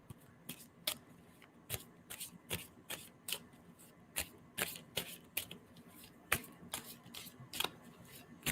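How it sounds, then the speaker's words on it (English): Cards are shuffled repeatedly, producing sharp riffling snaps and soft flicks at an uneven rhythm, close and fairly quiet. "I'm going to stop shuffling."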